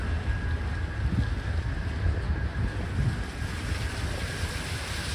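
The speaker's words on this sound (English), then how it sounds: "Here goes the fountains again." Outdoor water fountains running in San Francisco, a steady broadband rush of splashing water with some wind buffeting, continuous and fairly close with no talking.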